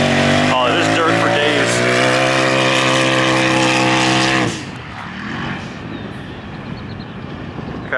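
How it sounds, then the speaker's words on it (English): A revving turbocharged Evo engine with aftermarket muffler drones loudly, then cuts off with a sharp blow-off valve whoosh, leaving a quieter idle; a voice speaks briefly. "almost forget how good this car sounds. That Evo muffler dude and the blow-off valve charge tubes."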